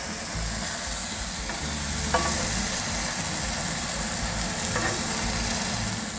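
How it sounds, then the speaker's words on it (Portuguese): Onions and thin beef steaks sizzle and fry in a pan while being stirred, a steady loud crackling hiss throughout with a few scraping clinks of the utensil. "vamos mexer nossa cebola aqui, até ele dando uma enxugada"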